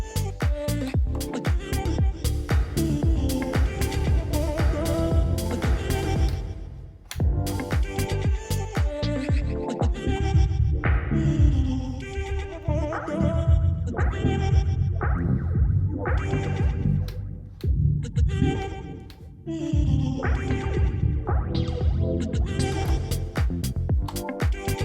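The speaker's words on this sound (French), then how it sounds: "Je souhaite mettre une reverb." Dense electronic dance music with a reverb effect from a Hercules DJControl Inpulse T7 plays continuously, a washed-out, reverberant tail smearing the beats, loud and steady with brief dips.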